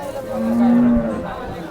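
An HF dairy cow at a crowded cattle market in Sangola gives one loud, drawn-out moo that swells and fades over about a second, with faint background chatter around it.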